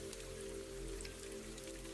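Soft night rain patters faintly outside a greenhouse cottage by a meadow, a low steady drizzle under a constant background hum, with no one speaking.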